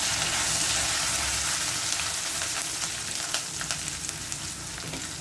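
Dried red chillies, ginger and onion fry in a pan for moru curry, giving a dense, steady sizzle that crackles and hisses up close throughout, with no talking.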